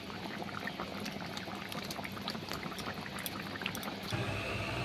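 Plantain bora curry simmers steadily with a dense, even bubbling, while a pinch of garam masala is added; the sound stays continuous and close, lifting slightly in the final second.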